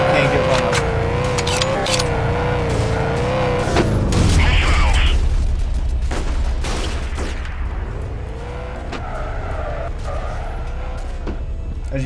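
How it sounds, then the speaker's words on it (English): Mortar shells landing in the war game Freeman: Guerilla Warfare, a deep rumbling boom near the middle among distant thuds and engine drone, with someone talking over it throughout. "the mortar is doing its work where you see explosive shells landing"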